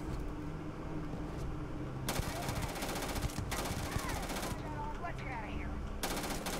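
Gunfire in the space game Starfield comes in several rapid bursts of automatic fire, fairly quiet and separated by brief pauses, with scattered game effects between them.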